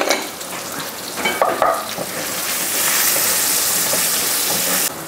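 Garlic sizzles steadily in a frying pan with curry leaves and salt, a broad hiss that swells louder after a few seconds, with a few stirring scrapes near the start and no talking.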